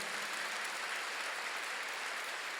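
Church congregation clapping together during a sermon, a dense, steady wash of applause that holds for the whole stretch at moderate volume, with no voices.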